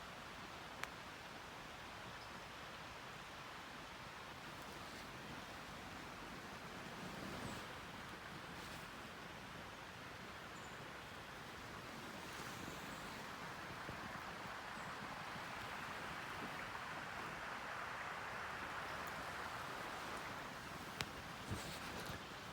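Flowing creek water along the Ozark Highlands Trail near Indian Creek, a faint, continuous rushing murmur with soft rustling and a few light ticks, steady throughout with no talking.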